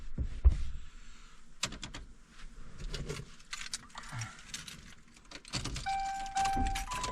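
A set of car keys jangles and clicks into the ignition of a 2011 Ford Crown Victoria police car, with close metallic rattles and scrapes broken up by short pauses.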